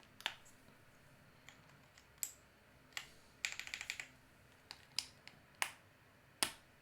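Typing on a mechanical keyboard at close range, quiet and crisp: scattered single clacky keystrokes with a short rapid burst in the middle, set against a faint background.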